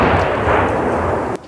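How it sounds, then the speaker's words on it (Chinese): Artillery shells exploding close by near Bakhmut, a loud dense rumbling barrage of blasts that runs continuously, then cuts off abruptly near the end. "又有炮弹落在前方不远处，炮击声很快变得密集。"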